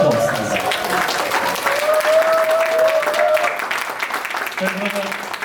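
Audience applause at an alumni association president's inauguration ceremony, sustained clapping from a crowd filling the whole stretch, with a voice briefly heard over it near the end.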